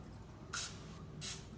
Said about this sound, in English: It's actually pretty dangerous to spray the oil on the pan while you have a flame underneath